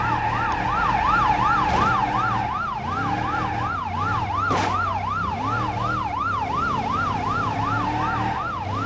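A fast, warbling police siren in the BeamNG.drive video game cycles rapidly and continuously, with a faint engine hum underneath and a couple of sharp clicks mid-way.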